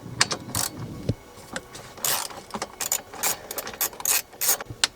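Ratchet clicking in short bursts while loosening a 10mm nut on a Nissan 350Z dashboard, close and fairly loud, with quick ratcheting strokes separated by brief pauses and handling noise.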